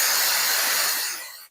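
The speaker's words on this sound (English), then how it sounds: "I'm going to spray this, stick it here" A continuous aerosol hiss of spray adhesive onto a foam backing piece, close and steady for over a second, then cutting off abruptly with a brief final puff.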